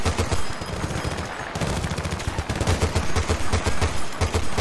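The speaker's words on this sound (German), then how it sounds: "Das MG steht extra hier, damit ich es benutze." Machine gun fire in Battlefield: Bad Company 2 rattles in rapid, continuous close bursts, loud and dense throughout with no pauses.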